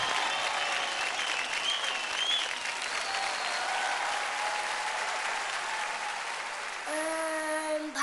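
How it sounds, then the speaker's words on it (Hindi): A large studio audience at a televised dance show claps loudly and steadily, a dense sustained wave of applause, with a voice breaking in near the end. "जोरदार तालियां हो जाए।"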